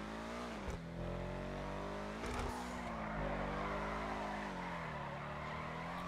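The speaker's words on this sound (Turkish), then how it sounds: "Hemen dediğim gibi bu araba da güzel kayıyor gerçekten." A car drifts in GTA Online, a steady loud engine roar with tire skid and squeal running through the whole stretch, broken by a couple of brief bumps, with no voices over it.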